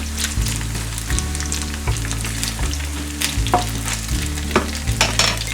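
Chicken fries in a pan toward crispy, a loud dense crackling sizzle throughout, with occasional pops and spatters and a low pulsing hum beneath.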